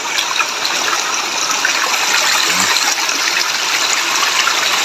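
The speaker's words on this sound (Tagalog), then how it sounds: "may tubig na nakapasok doon sa palayan natin" Water gushes steadily into a rice paddy, a continuous broad rushing flow with no pauses and no voices.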